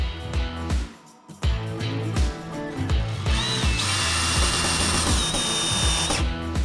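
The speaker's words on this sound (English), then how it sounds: "After that, I'll make marks here and we'll put in the screws." A power drill drives screws into a cabinet door hinge on an outdoor wooden TV cabinet, close and loud, with stop-start whirring bursts and a steady sustained run of the motor toward the end.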